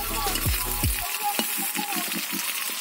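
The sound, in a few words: onions frying in oil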